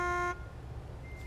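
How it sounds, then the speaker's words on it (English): A loud truck horn in American Truck Simulator blasts a single steady tonal honk lasting about a third of a second, then cuts off, leaving low engine rumble and a faint lingering tone. "One more honk and somebody's gonna get these hands."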